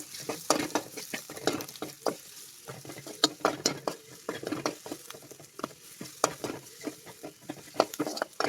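Chopped ingredients for a chicken liver fry are stirred in a sizzling pan, with irregular quick scrapes and clatters of the spoon over a crackling fry, close and moderately loud, and no talking.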